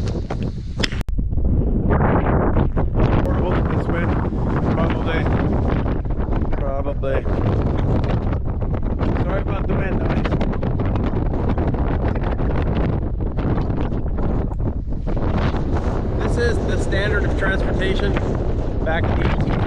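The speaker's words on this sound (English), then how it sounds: "Windy here." Wind gusting across open ground in Death Valley, buffeting the microphone as a steady, loud, roaring rush of noise that persists for the whole stretch with only brief dips.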